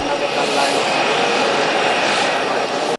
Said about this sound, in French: En petit au revoir, l'avion de commandement prend les airs.